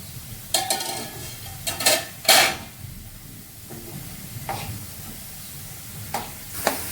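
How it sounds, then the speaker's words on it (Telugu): Food fries under a lid in a pan with little oil until it turns golden, giving a low steady sizzle with occasional clinks and scrapes of stirring, close by, with no talk. "మూత పెట్టేసుకుని మధ్య మధ్యలో అయితే మనము ఫ్రై చేసుకోవాలి"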